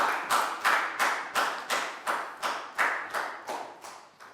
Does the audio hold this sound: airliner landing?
no